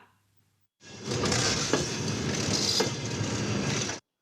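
A passenger train on the Zaporizhzhia–Przemyśl route rolls along the rails, its steady, loud rumble and wheel noise starting abruptly after a short silence and running for about three seconds before cutting off.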